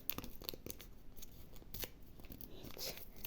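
Quiet, close tearing and crinkling of a small paper packet, several short rips and rustles in quick succession with no voices.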